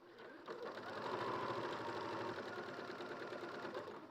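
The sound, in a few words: sewing machine stitching fabric within seam allowance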